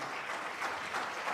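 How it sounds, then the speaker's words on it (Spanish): A church congregation applauds during a service, a brief, full wash of many hands clapping together, steady and fairly close. "Yo creo que el Señor se merece un fuerte aplauso."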